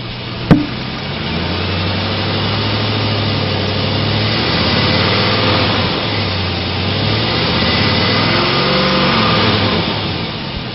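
The 5.3-liter engine of a 2006 Chevrolet Tahoe with automatic transmission runs steadily at idle, a close, even rumble with gentle rises in pitch, opening with one sharp knock and no talking.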